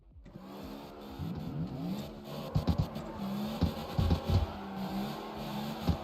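A drift car's engine revs in bursts at a drift event, uneven throttle blips and rising growls at moderate distance, heard fairly faintly amid background noise.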